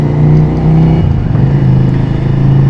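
A modified Ducati Scrambler motorcycle engine idles loud and close in a steady, throbbing rumble, with a slight blip of revs near the middle and no talking.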